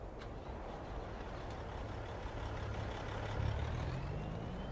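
A loaded Kenworth logging truck in Farming Simulator 25 rumbles along with a low, steady diesel drone that swells slightly near the end, heard alone without talk.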